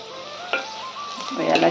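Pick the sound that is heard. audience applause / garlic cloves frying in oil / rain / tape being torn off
garlic cloves frying in oil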